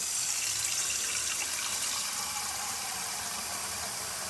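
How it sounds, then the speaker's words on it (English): Boiling water pours into a ramen bowl in a steady, loud, close rushing stream that lasts the whole time, with no voices. "So now we can go ahead and add the boiling water."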